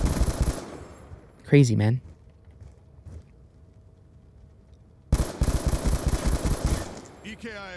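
Light machine gun fire from Black Ops 2, an MK-48 or QBB LSW, with a loud sustained rapid stream of shots at the start and again after a pause, a voice speaking briefly between the volleys.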